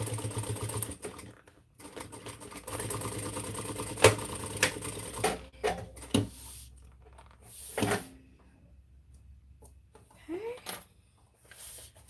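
Sewing machine stitching over a backpack zipper, running in several bursts of rapid mechanical whirring and clatter separated by pauses, with thumps and handling clicks in between.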